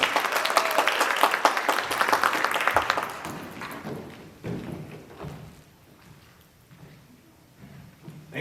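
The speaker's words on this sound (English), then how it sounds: "Let's give a round of applause." An audience applauds loudly at a university storytelling event, with dense clapping that fades after a few seconds into scattered claps and soft thuds.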